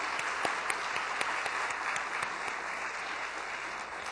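Steady applause fills a conference hall at a women and girls summit as the audience thanks women for sharing their testimony, a dense continuous clatter of many hands with a few sharper claps standing out.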